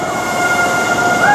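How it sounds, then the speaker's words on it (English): A train departs Plymouth station on the 2121 service to Penzance: a continuous rolling rumble runs under sustained horn-like tones that rise slightly near the end, close and loud, with no talking. "Right, this train is now departing Plymouth."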